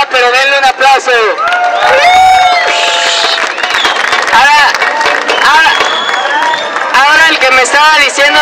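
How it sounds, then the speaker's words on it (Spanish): A lively outdoor crowd at an urban highline competition claps and cheers, with whistles and excited voices overlapping in the babble of an energetic gathering. "denle un aplauso"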